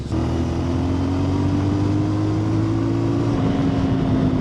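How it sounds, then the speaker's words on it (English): A motorcycle engine revs steadily and loudly for a few seconds with a sustained droning tone, picked up close by the rear microphone of a DJI action camera. "Just rev the engine there a little bit to see what the mic on the back is doing."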